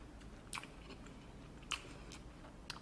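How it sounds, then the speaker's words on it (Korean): Someone bites and crunches small, hard, colorful star-shaped candies, with a few sharp, close crunches spaced about a second apart over a quiet background. "뽀빠이에서 보던 그 별사탕. 음, 한번 먹어볼게요."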